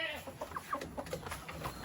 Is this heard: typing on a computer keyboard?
no